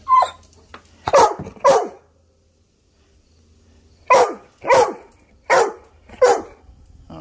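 A dog barks close by in two bursts, three sharp barks, a pause, then four more in a quick rhythm.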